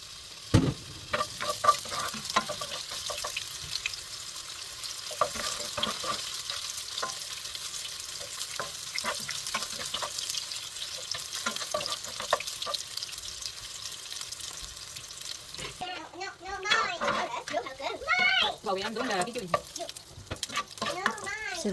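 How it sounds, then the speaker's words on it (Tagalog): Ginger sizzles in hot oil in a pan for tinolang manok, a continuous frying hiss with scraping stir strokes, growing busier and louder toward the end. "Unahin muna natin gisahin ang luya hanggang maging golden brown."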